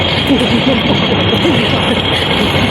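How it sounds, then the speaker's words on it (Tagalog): A train runs along an elevated railway in Wong Chuk Hang, Hong Kong, toward South Horizons, giving a continuous, loud rumbling roar with people talking over it. "Makikita yung elevated na daanan ng tren."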